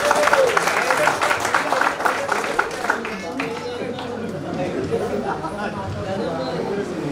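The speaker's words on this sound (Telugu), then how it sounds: "big claps" Applause from an audience at a school alumni get-together party, a burst of dense clapping early on that thins out as chatter and voices take over toward the end.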